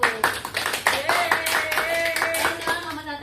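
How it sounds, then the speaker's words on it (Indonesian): Students in a classroom applaud a group after its presentation, a lively burst of many hands clapping close by, with children's voices calling out over the clapping. "Silakan beri tepuk tangan untuk kelompok 1."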